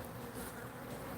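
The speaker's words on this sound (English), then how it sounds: "Bees are attacking it." Bees buzz close around a beehive frame, a brief dense hum with no pauses or voices.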